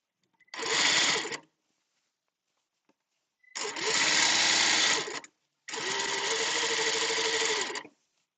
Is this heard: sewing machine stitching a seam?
yes